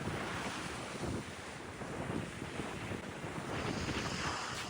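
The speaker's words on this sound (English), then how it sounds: "It's too windy." Strong wind buffets the microphone on Sotavento beach, Fuerteventura, near dunes. Loud, steady broadband roaring and gusting fills the whole stretch, with no voices.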